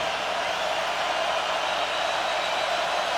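A dense, steady roar rises from a packed stadium crowd at a Notre Dame at Miami college football game in 2017, a loud, unbroken wash of noise with no distinct voices standing out.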